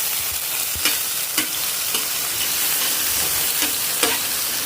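Food frying in hot oil with tomatoes sautéing in a home kitchen, a steady close sizzle broken by a few sharp stirring clinks spaced about half a second apart.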